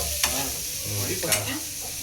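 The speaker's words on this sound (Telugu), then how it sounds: "పన్నీర్ని ఫ్రై చేస్తున్నారు కొద్దిగా." Paneer fries in a pan with a steady sizzle at a street food stall, broken by a couple of sharp scraping stirs.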